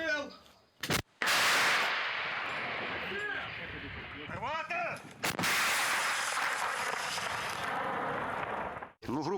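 Several heavy booming blasts of artillery cannon fire at a Ukrainian front-line defensive position, each followed by a long rumbling roar, with speech between and over the noise.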